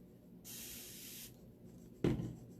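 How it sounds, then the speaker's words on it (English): A water spray bottle misting chalk paste gives one soft hiss lasting nearly a second, followed by a short, louder bump or rub up close. "Spray of water and mix."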